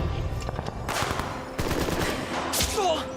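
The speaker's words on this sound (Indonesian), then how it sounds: "Dan tembakan dimulai." Gunfire erupts in a film shootout between elite squads, loud bursts of rapid automatic fire and single cracks coming in quick clusters over about three seconds, with no speech.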